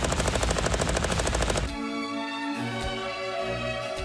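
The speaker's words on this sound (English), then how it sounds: "Jamie's going to be firing 200 rounds with the gun secured on a tabletop tripod" A machine gun mounted on a tabletop tripod fires a rapid sustained burst, loud and close, with regular rounds for about a second and a half before stopping and leaving a ringing tail.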